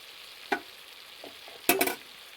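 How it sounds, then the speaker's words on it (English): Onions sautéing in a pan give a faint background sizzle, with a brief stirring scrape early on and a louder burst of scraping near the end. "Get this sauteed until the onion is clear"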